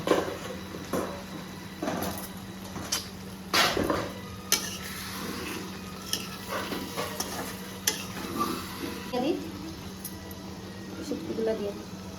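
Potatoes and dried kachki fish being stirred in a pan: repeated scraping and clinking strokes over a low sizzle and a steady background hum, with a voice talking intermittently through it.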